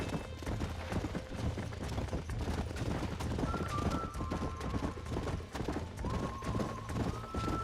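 Horses in the video game Red Dead Redemption clip-clop along in a steady trot, hoofbeats fairly close and continuous under faint tonal game music, with a possible brief whinny.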